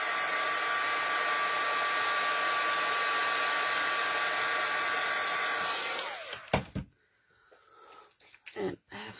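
Heat tool blowing hot air over glitter on a snow-globe card, a steady close whooshing drone that runs for about six seconds and then cuts off, leaving light handling noises.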